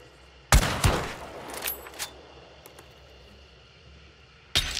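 Gunshots ring out in the video game Hunt: Showdown, two sharp shots close together at the start, a few fainter pops in the middle and another loud shot at the end.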